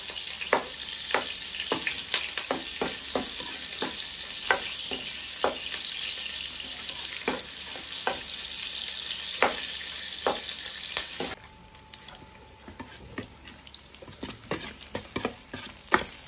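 Ingredients with lemon and chili fry in a pan, a steady loud sizzle broken by repeated scraping stirs, before the sizzle drops sharply and quieter stirring and clinks carry on.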